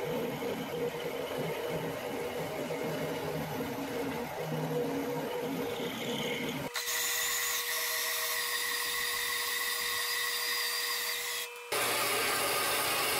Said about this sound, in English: So I put a mill in here, and then do a little bit more hogging with the mill